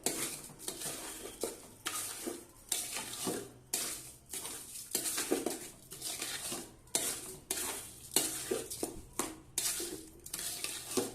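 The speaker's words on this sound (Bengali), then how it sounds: "এবার ভালোভাবে নেড়ে দেবো" Food in a cooking pan being stirred and scraped with rhythmic, repeated strokes roughly every second, with a soft sizzle running underneath and no voices.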